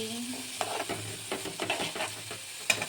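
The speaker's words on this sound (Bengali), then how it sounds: "এটা একটু ভেজে রাখি, তাহলে চটপট সেদ্ধ হয়ে যাবে" Carrots and peas sizzle gently in hot oil while a utensil stirs and scrapes the pan several times, close up, with no one speaking.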